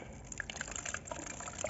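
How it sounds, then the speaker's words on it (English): Fuel is poured from a removed fuel filter into a clear bottle on a vehicle that will not start because of water in the fuel, a faint, close trickle of liquid with small dripping splashes. "pour the content from the fuel filter to the bottle so we can see what's inside"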